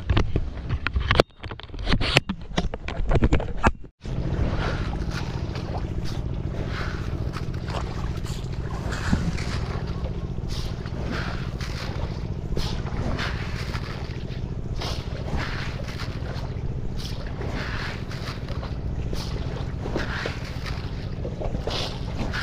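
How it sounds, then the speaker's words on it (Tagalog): A boat engine runs steadily on the water near a farm, a continuous low drone with wind buffeting the microphone and a few sharp knocks in the first seconds before it settles into a constant hum. "Sinindi na yung makina."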